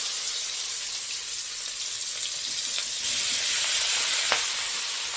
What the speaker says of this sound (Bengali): এবার তেলটা গরম হয়ে গেছে এবার এক এক করে দিয়ে দিচ্ছি